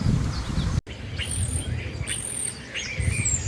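Birds calling high in a eucalyptus tree at Herbertsdale, South Africa: repeated thin chirps and whistled notes scattered over a constant low rumble of wind and handling noise.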